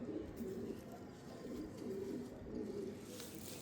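Ghungroo pigeons cooing in soft, repeated low murmurs, steady and continuous at moderate distance, with faint background noise throughout.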